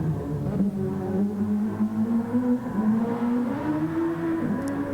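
Racing car engine in GT Sport at Circuit de Spa-Francorchamps, a Super Formula car held at steady, moderate revs, its tone drifting gently up and down as it runs close and continuous.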